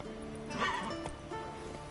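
A horse neighs in The Witcher 3: Wild Hunt, one short, clear whinny rising then falling, with faint hoof clip-clops around it, all close and fairly quiet.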